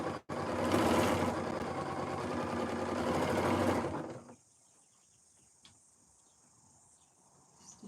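Sewing machine stitching quilt seams, a loud close continuous whir for about four seconds that stops abruptly, followed by quiet room tone with faint small clicks.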